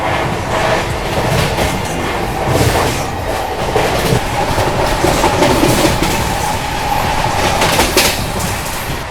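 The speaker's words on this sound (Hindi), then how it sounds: "अपनी CR राजधानी एक्सप्रेस दोस्तों डिपार्चर ले चुकी है हजरत निज़ामुद्दीन से" The 22222 CR Rajdhani Express pulls out of Hazrat Nizamuddin, a loud, continuous rumble of rolling wheels and rattling carriages with faint clickety-clack and no voices.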